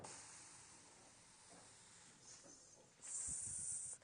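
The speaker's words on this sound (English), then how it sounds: "It's that continual spray, and this is why we sell it." Fine mist sprayer gives a short continual spray, a sharp bright hiss that starts near the end and holds for about a second after faint quiet background.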